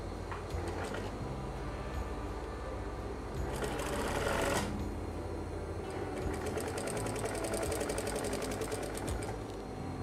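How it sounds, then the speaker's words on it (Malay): A sewing machine stitching elastic into a skirt waistband, with steady rapid needle chatter that runs in bursts and briefly speeds up and grows louder midway, close and alone without talk. "So, kita jahitkan."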